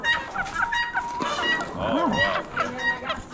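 Chickens at a poultry auction, mottled Cochin hens and splash lace Wyandotte roosters, cluck and call in short bursts nearby amid crowd murmur, with a person briefly exclaiming.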